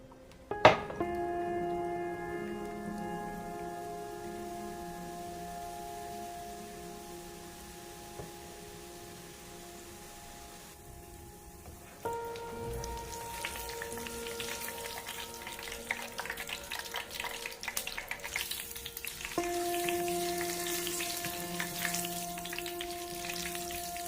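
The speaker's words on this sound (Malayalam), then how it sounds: "പിന്നെ എല്ലാ ബൂന്തിയും നമുക്കിങ്ങനെ ഫ്രൈ ചെയ്തെടുക്കാം" Boondi batter frying in hot oil over a low flame for a Kerala mixture, a steady close sizzle that swells louder partway through, with a faint tonal hum underneath and no talking.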